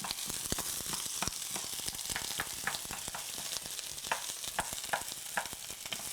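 Pork and onion stir-frying in sesame oil in a home kitchen pan for spicy pork bulgogi, a steady close sizzle with repeated scraping and stirring clicks throughout, no talking.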